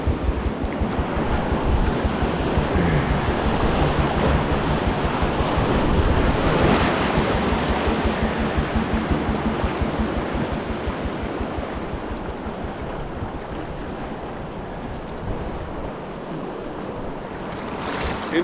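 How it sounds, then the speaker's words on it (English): Continuous roar of a rushing river rapid on the Yukon, loud and broadband, with wind rumble on the microphone and no voices, fading slightly toward the end. "Interesting rapid though"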